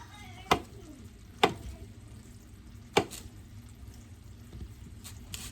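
Knife cutting a banana into half-inch rounds on a board, three sharp distinct chops spaced about a second apart, close and fairly quiet over a low kitchen background.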